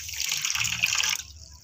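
Water pours steadily into a bowl of brown sugar and baking soda for a Jaffna-style vaipan batter, a close trickling splash lasting about a second before stopping.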